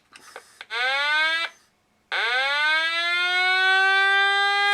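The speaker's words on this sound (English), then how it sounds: "And we got one more sound on this thing. Standard beeping." Electronic alarm from a GI Joe USS Flagg toy: a loud harmonic tone sweeps upward in two long rising wails separated by a short gap, after a few quick opening blips, with no talking.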